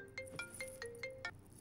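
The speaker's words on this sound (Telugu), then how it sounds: "కొంచెం ఇంపార్టెంట్ ఫోన్ కాల్" A phone ringtone for an incoming call: a faint, repeating electronic melody of short bright tones in an even rhythm, sounding alone.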